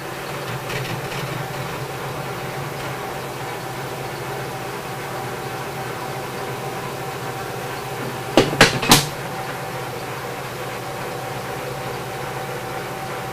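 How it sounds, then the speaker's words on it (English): A lathe taking a light skim cut on the outer diameter of a #40 taper tool holder: a steady, droning machine hum throughout, broken by a brief cluster of sharp clattering knocks partway through. "we're going to take a skim cut on the OD of that."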